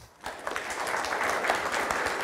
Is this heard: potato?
no